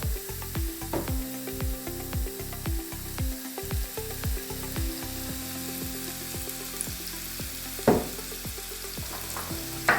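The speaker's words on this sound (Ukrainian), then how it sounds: "Поки обсмажуються наші грибочки" Mushrooms frying in a pan, a continuous sizzle broken by repeated scraping stirs, with a couple of sharper clatters near the end.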